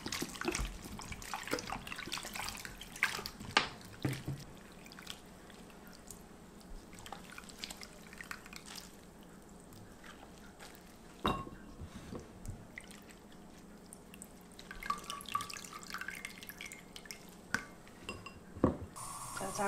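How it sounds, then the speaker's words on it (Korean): Salted bellflower root is rinsed in water while making stir-fried bellflower root, with close soft splashes, drips and sloshing in a bowl or sink, quiet and irregular with occasional sharper clinks. "한 번만 헹궈 주세요."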